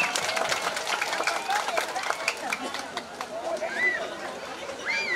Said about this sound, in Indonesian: Tepuk tangan untuk PKB Klasis Tasik Utara.